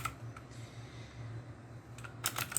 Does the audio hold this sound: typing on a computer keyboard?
yes